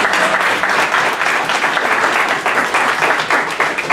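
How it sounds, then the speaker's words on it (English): A crowd at an Atlanta Sitecore user group meeting gives the evening's previous speakers a round of applause, loud, brisk and continuous, with individual claps crackling throughout. "Let's get one more round of applause for the previous speakers tonight"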